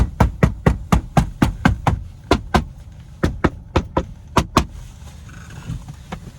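Inside a 2009 Toyota Prius, a cheap plastic cabin knocks and rattles in a rapid series of sharp, close clicks and taps, then quiets to a faint hum.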